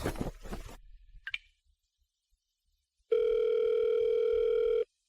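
A telephone call rings out unanswered: a single long, steady electronic ring tone sounds alone and clearly after a brief quiet stretch, preceded by some faint rustling.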